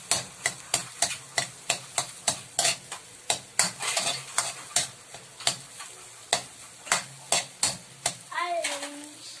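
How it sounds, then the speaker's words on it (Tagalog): Omelette-stuffed tilapia frying in a pan, with a steady sizzle punctuated by quick, regular scraping and clicking strokes from a utensil against the pan, close and fairly loud. "Saka natin ipiprito ang ating tilapia."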